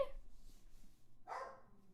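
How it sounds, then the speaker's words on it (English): A dog gives a couple of faint, short barks indoors, with a quiet pause between them and low background hum. "Oh, he's barking, obviously."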